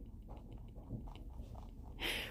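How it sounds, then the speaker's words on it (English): A pet rabbit gnaws on a cardboard box, a quiet run of small rhythmic crunching bites, ending in a brief louder rustle. "she just can't hear me over her chewing the box"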